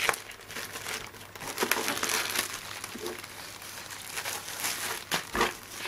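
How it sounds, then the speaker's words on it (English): Plastic wrapping crackles and crinkles steadily under a gloved finger as it is pressed and broken, a close, dense rustle lasting several seconds with a few sharper crunches. "I put my finger on here to break the plastic."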